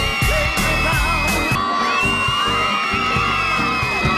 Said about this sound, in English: people were actually cheering for Cool Cat, they piped in all these fake screams, but they only used one over and over and over again